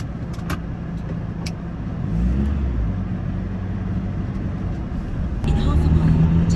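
A Ford Transit van engine runs steadily while driving, a low continuous drone with a brief rise in the middle and a heavier push near the end, with some speech over it.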